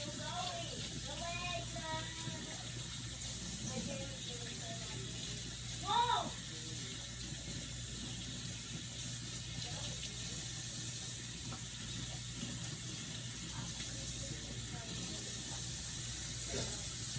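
Vegetables rinsed under a running tap for a chicken soup: a steady wash of water hiss runs the whole time, with a person talking over it.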